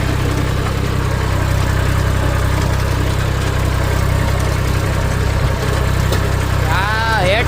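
An Eicher 380 Super Power tractor runs with a 5 Star rotavator through green field growth, its diesel engine holding a loud, steady low drone throughout, with a brief squealing sound near the end.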